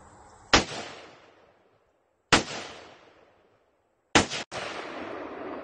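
Three loud gunshots fired outdoors on a cold day, spaced about two seconds apart, each a sharp crack that trails off in a long echoing decay, with no voices.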